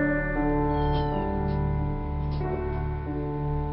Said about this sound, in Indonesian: Sorry ada kucingnya.